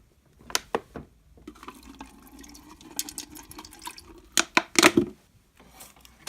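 Water being poured into a homemade fish bowl, with irregular splashing and trickling bursts that grow louder and choppier toward the end, heard close up with no talking.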